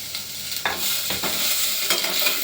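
Beans and carrots fry in hot oil in a pressure cooker while being stirred, making a loud, continuous sizzle broken by a few scraping stir strokes, with no voices.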